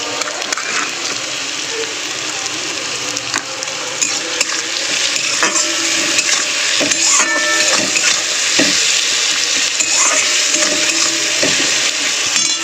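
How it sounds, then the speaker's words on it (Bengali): Chopped onions fry in a pan with salt, a steady broadband sizzle with scattered stirring clicks and scrapes running throughout, close and fairly loud with no talk. "পেঁয়াজটা একটু লাল লাল করে ভাজবো"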